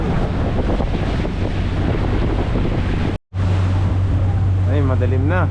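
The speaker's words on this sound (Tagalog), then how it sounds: "Nahampas na dito ang alon." Wind buffets the microphone as Pacific Ocean waves slosh and slap against a boat, with a brief dropout and a voice near the end.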